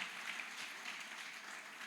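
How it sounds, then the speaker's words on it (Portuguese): Faint, steady applause from a Baptist church congregation praising God, a continuous wash of clapping heard from a distance with no talk over it. "Aplauda o Senhor, irmãos."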